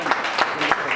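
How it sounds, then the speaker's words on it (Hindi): An event audience claps for a guest being welcomed, a brief steady patter of applause from a crowd filling the moment, with no clear speech over it. "प्लीज जोरदार तालियां हो जाए"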